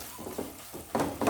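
Masala for a Godavari-style fish curry (pulusu) is stirred in a pan, giving a few soft, short scraping and sizzling bursts at an uneven pace, fairly faint and close.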